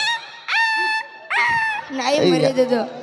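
A man imitates a dog with his voice, giving a few drawn-out whining yelps and then a longer, wavering howl-like whimper, close and fairly loud.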